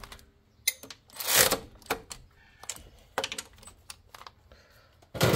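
10mm bracket bolts being tightened while fitting an alternator, a quick series of sharp ratcheting clicks and metallic rasps in short irregular bursts, close by with no talking.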